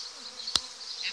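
A swarm of honeybees being captured gives off a faint, steady buzzing hum with one brief sharp click near the middle.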